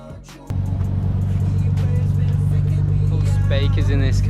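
A Nissan R33 fitted with a welded differential fires up and pulls away, its engine settling quickly into a loud, steady drone with a deep low hum that holds throughout.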